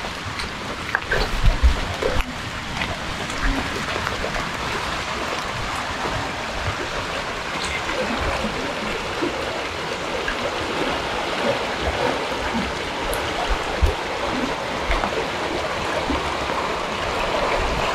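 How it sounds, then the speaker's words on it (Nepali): Bulbule lake in Surkhet overflowing after days of continuous rain, a steady loud rush of water running on without pause, with a few brief knocks near the start. "पानीको ओभर फ्लो हो"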